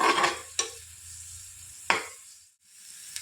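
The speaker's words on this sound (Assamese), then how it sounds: "এইখিনি অকণমান ভাজি ল'ম মই।" Ginger and garlic sizzle in a pan for homemade butter chicken while a utensil stirs, giving two sharp scraping strokes over a soft frying hiss that dies away toward the end.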